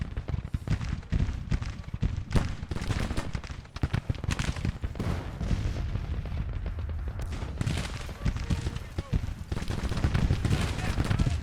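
Musket volleys aimed at cavalry in Grand Tactician: The Civil War, a dense, continuous crackle of gunfire and distant bangs rolling through the whole stretch, with talk mixed in.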